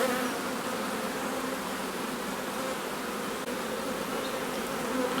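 Dense, steady buzzing of honeybees as they are shaken off a hive frame during artificial swarm work, a continuous close drone without pause or voices.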